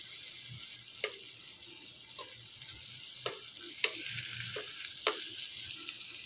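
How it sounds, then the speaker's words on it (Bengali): Chicken kebabs frying on low heat in a pan, a steady soft sizzle running throughout with a few sharp crackles and utensil clicks while the pieces are turned. "তো কাবাবগুলোকে উল্টে পাল্টে ভেজে নেবো।"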